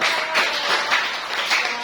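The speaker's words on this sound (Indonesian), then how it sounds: "kasih tepuk tangan dulu" Sustained group applause from a math class, a dense patter of many hands clapping with no talking over it.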